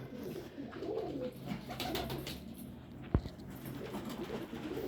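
Pigeons in a breeding setup give faint, low, throaty coos in a quiet loft, repeated in soft bursts, with one sharp knock partway through.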